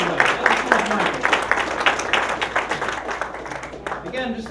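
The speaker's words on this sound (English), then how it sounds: "Another round of applause for our speaker, everybody." Audience applause for a speaker at a talk, dense steady clapping from a crowd that holds for several seconds and tapers slightly near the end.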